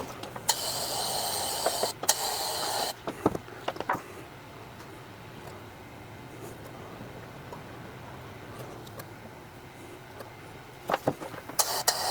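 A powder coating spray gun lays down an initial coat in a home DIY setup, giving off bursts of airy hiss that start and stop, with a quieter steady hum in between.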